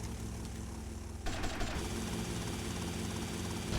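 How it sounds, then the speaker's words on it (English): Helicopters arriving in a gang-war video game: a dense, continuous rotor-and-engine roar fills the scene, with rapid rattling bursts like gunfire layered in and growing louder partway through. "The 8th Avenue Furies are arriving by helicopters"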